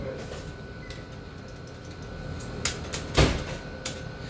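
An older Schindler elevator door slides shut in a hotel elevator cab, a soft rolling mechanical run ending in a louder thump near the end, over steady low cab hum.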